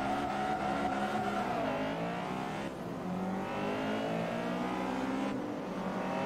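A Class D post-2000 Asian car in Forza Motorsport 3 accelerates through its gears. The engine revs rise and drop back at each shift in a loud, continuous drone with no talking over it.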